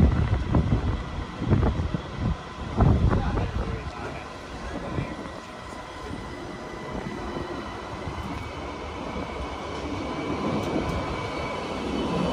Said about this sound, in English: Just gonna film a little bit of the tram action here before filming a trip back.